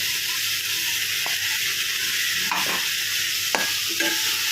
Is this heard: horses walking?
no